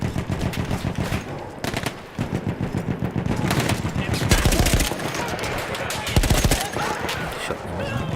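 Battlefield 1 gameplay: rapid, dense bursts of rifle and machine-gun fire crackle nearly nonstop, loud and close, with heavier booms mixed in.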